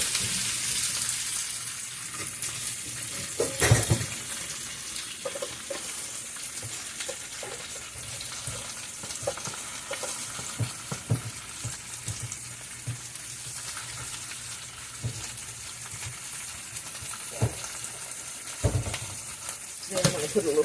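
Cabbage sizzles in a very hot skillet with bacon fat, a constant close crackling hiss broken by occasional clanks and stirring knocks.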